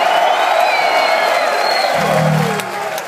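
Crowd at a metal concert in a theater cheers, whoops and applauds loudly and continuously, a dense roar of many voices with shouted calls rising over it, holding steady for about three seconds.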